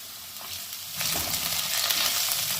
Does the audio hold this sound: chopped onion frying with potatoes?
yes